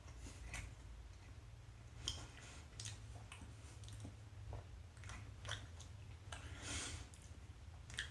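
Someone chews a mouthful of Farm Foods all day breakfast gammon close up, soft wet bites and crunchy clicks repeating irregularly over several seconds, quiet and without talk.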